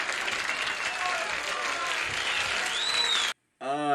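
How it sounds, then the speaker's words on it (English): A dense, steady wash of clapping from a large audience after a jazz performance fills the space, ending abruptly, followed by a brief burst of voice. "Applause, applause."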